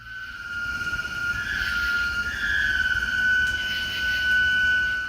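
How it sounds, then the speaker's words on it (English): Mysterious metallic screeching reported in the sky, a sustained high, thin squeal wavering in pitch over a low rumbling background, continuing for several seconds without any talk. "the mysterious noise resembles the sound of screeching metal, like someone dragging heavy metal furniture across the floor"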